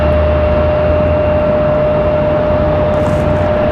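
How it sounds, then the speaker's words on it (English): Boeing 777 airliner beginning to taxi at Raleigh-Durham airport, a steady, loud jet engine drone with a constant high whine running through it and no pauses. "They are starting to move with that 777."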